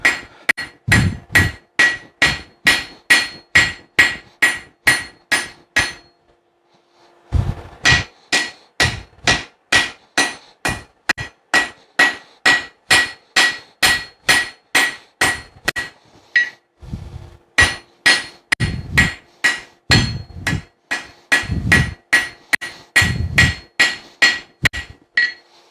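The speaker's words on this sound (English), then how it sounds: "Try to keep your hammer the same angle on both sides." A hammer forges hot steel on an anvil to make a tomahawk drift, striking in long, steady, evenly spaced runs of loud, ringing blows, with short pauses between sets.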